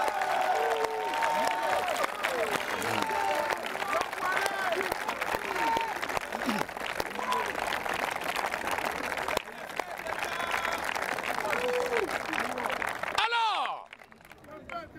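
A congregation at a Christian gathering applauds and acclaims in sustained, dense clapping mixed with crowd voices, loud and continuous for most of the stretch before cutting off abruptly near the end.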